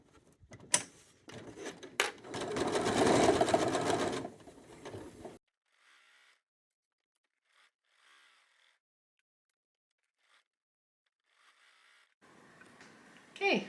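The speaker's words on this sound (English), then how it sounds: "I'm going to be chain piecing my 9 patch together" A home sewing machine runs in a loud, steady whirring burst for a few seconds while chain piecing nine-patch quilt squares, then stops, leaving near silence with a few faint clicks before another short burst of handling noise.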